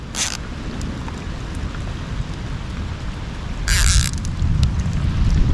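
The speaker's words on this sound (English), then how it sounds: "you can hear the freaking lightning" Steady heavy rain hisses during bank catfishing at night, and a low rumbling roll of thunder swells toward the end with bright crackling bursts.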